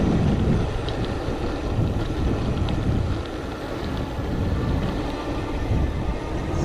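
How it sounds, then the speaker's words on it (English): Tires of an electric folding bike roll on tar, a continuous broad rushing hum mixed with heavy wind buffeting, steady and close throughout with no talk. "You could hear the tires."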